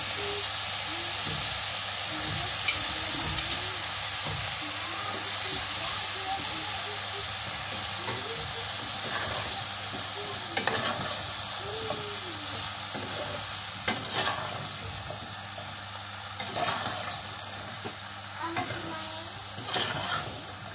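Red coral sea fish and cauliflower stir-fried in a pan in a village kitchen, with a steady close sizzle and repeated scraping stirs throughout, occasional louder clinks against the pan.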